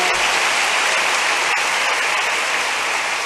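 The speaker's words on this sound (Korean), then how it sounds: "우리 큰박수 하나님께 영광 돌립니다." A church congregation applauds after a full choir's hymn performance, a dense, steady wash of clapping from many hands that fills the space at an even level throughout, with no talking over it.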